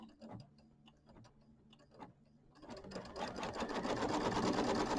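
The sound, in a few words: embroidery machine tacking down fabric on a Kimberbell mini quilt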